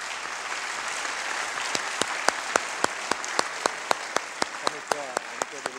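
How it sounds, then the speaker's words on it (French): Audience applause at a French sommelier competition, a steady wash of clapping that holds for several seconds with sharp, evenly spaced claps standing out in a rhythmic beat. "On peut les applaudir."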